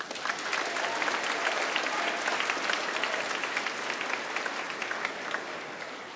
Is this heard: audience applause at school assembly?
yes